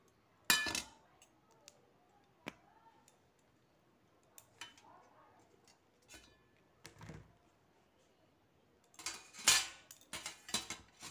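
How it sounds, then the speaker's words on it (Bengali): A knife slices the top off a medium radish on a kitchen board, giving a sharp cut near the start, a few scattered light knocks and clinks, then a busier burst of clicking and scraping toward the end. "পাতাগুলোকে আগে ছাড়িয়ে নিয়েছি, এখন মুখটা কেটে নিচ্ছি।"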